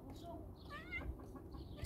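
A hungry cat named Miming meows near a backyard chicken coop, a short rising-and-falling meow in the middle, faint, with a voice speaking nearby.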